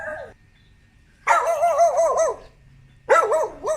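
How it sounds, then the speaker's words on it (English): A dog barks in a quiet city neighborhood, two separate bursts of rapid, yelping barks with a pause between them, loud and fairly close against an otherwise still background. "there's nothing going on here except for the barking dog"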